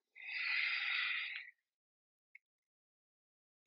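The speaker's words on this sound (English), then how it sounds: "And exhale." A single soft, airy exhale during a yoga flow, breathed out close to the microphone for about a second and a half, followed by near silence and a faint click.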